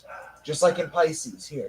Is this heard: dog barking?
yes